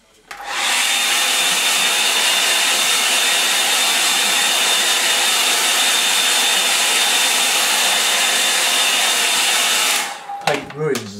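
A hair dryer drying watercolour paint runs loudly and steadily for about ten seconds with a constant whine, then switches off abruptly, leaving brief handling noise.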